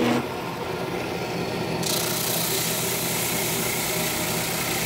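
Flatmaster drum sander with 80 grit sandpaper sanding a wooden workpiece: a steady motor hum with a continuous gritty rasp that holds at an even level from start to finish.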